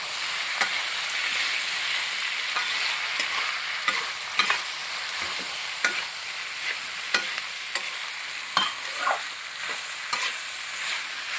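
Green beans for vegetable kurma are stirred as they fry in a pan: a steady, close sizzle with regular clicks and scrapes from the spoon against the pan, and no voices.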